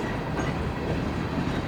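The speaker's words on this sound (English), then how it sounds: "I really just couldn't get over how long this train was." A long freight train rolling past on the CSX Monon Subdivision, a steady close rumble of wheels and rail cars with faint clatter, continuous and loud with no voices.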